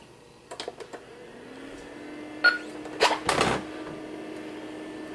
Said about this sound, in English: What you heard was the color wheel spinning up.